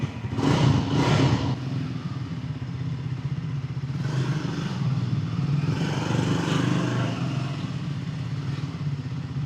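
Triumph Scrambler 400X motorcycle running after a cold start following a long idle period, a steady close engine drone with a couple of brief louder bursts and no talking.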